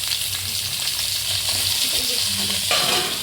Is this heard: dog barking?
no